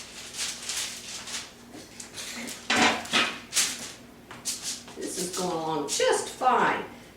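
Clattering metal knocks and scrapes as a cookie sheet is fetched and handled in a kitchen while making salt dough ornaments, irregular close taps mixed with a person talking.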